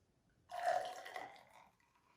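Sparkling wine pours into a glass, a short soft fizzing gush that starts abruptly, peaks quickly and fades over about a second, faint and close with no talking.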